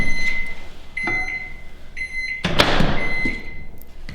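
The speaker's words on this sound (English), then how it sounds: "we're waiting for the microwave to melt some more chocolate chips" Microwave oven melting chocolate chips, with several short electronic beeps at a steady pitch, a door thud, then a broader clatter and hum near the end, all fairly close.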